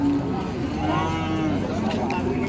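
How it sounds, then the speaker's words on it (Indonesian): Cattle lowing at a cattle market in Purwantoro, with Pegon and Limousin beef cattle on sale; a few drawn-out moos rise over a busy background of voices and crowd noise. "Ini sapi-sapi dari Plausan Magetan yang cukup mantap-mantap pagi ini, yang dibawa sama Mbah Supar."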